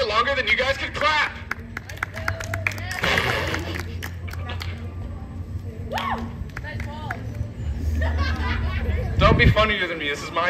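A street show crowd claps in bursts, scattered hand claps with cheering and babble, loud and close around a performer who talks over it.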